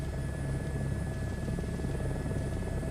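A Chinook tandem-rotor helicopter in Microsoft Flight Simulator 2024 drones with a steady, even rotor and turbine hum, low and continuous at moderate level with no voices.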